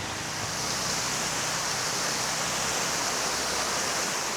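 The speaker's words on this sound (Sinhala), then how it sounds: "ඇල්ල හරි අපූර්වට ගලා යනවා." Steady rushing water of a small waterfall pours continuously, a broad hissing splash with no voices, close and even throughout.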